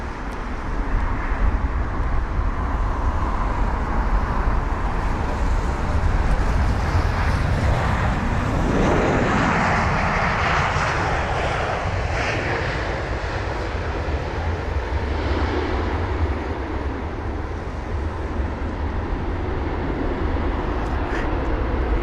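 A Boeing 737-800, registration PH-BXG, arriving from Amsterdam at London Heathrow. A continuous jet roar swells to a loud peak near the middle, then settles into a lower, sustained rumble.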